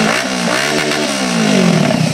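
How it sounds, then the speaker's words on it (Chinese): A Japanese heavy motorcycle roars through rising and falling revs, a loud close engine note climbing in pitch as it accelerates. "引擎声轰隆隆，当时被偷的就是这台日系重机"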